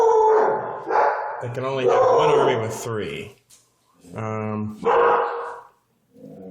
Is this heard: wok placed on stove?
no